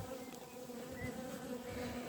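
Honey bees buzz at an open hive in an Irish apiary, a close, continuous droning hum that stays steady for a couple of seconds with no voices.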